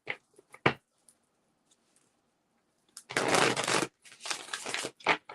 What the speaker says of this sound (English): we're gonna flip the deck around and shuffle